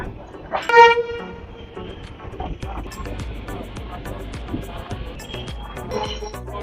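A local passenger train on the Raxaul–Sugauli–Bettiah/Motihari route pulls into Raxaul Junction in Bihar near the Nepal border. A short horn blast comes first, then a steady rolling rumble and clatter, with a voice talking over it.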